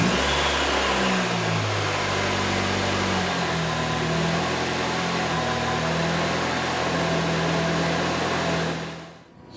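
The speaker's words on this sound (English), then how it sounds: "we're going to start up the car now and hope that nothing leaks" A supercharged LSJ engine in a Saturn wagon, fitted with a new belt and smaller pulley, starts up and settles into a steady running hum with a few rev changes, close and loud, cutting off abruptly.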